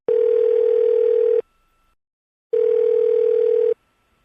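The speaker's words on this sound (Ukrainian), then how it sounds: "Телефоную до пані Олени" Telephone ringback tone heard while placing a call: two long steady electronic beeps, each about 1.3 seconds, separated by a second of silence, clear and close with no talk.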